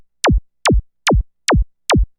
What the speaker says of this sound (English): We can adjust the sweep, how fast it takes for the sine wave to pitch down to our fundamental